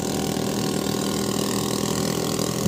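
A motorcycle engine on a road runs with a steady mid-pitched drone, loud and close, holding an even note through a short stretch with no talking.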